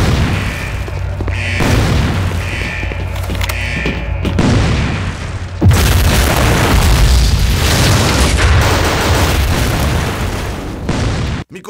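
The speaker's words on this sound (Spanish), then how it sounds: "10 segundos hasta la explosión." Explosions in the online shooter Operation 7 boom loudly in a game mix, several heavy blasts and bursts with gunfire-like pops, the densest one breaking out midway and rumbling on before stopping abruptly.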